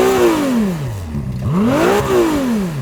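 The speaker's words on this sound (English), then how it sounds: "Let's have a listen to your V6 twin turbo." A Ferrari 296's twin-turbo V6 is revved hard twice in quick succession, its sharp note climbing and falling back each time, loud and close with no talking.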